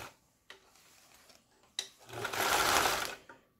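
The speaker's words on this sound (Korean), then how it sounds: "A에서 지그재그 바느질이 나오면 정상적으로 수리가 된 거죠." A repaired Singer Capri household sewing machine sews a zigzag stitch: a few clicks and clunks, then a motor whirring for roughly a second before it stops, heard up close.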